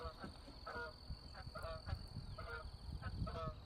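Several ducks honk in repeated calls as they fly past over open rural acreage, the calls rising and falling in a loose rhythm over a steady hiss and a voice.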